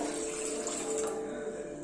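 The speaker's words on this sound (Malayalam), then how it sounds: "ഇതിലേക്ക് നമ്മൾ ഒരു കപ്പ് വെള്ളമാണ് ഒഴിക്കുന്നത്" A cup of water is poured into a vessel while a natural hair dye is being prepared, giving a steady, close splashing flow throughout with no voices.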